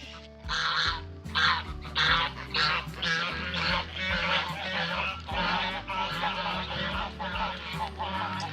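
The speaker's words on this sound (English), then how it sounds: "The geese going home for the evening." A flock of geese honks repeatedly and loudly, overlapping calls in a steady rhythm, with a low background hum beneath.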